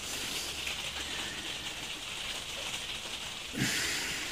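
Rain patters steadily in a soft, continuous hiss, with a brief thump near the end; no voices.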